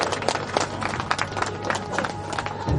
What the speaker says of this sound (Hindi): चलिए बहुत तालियों के साथ स्वागत किया जाए।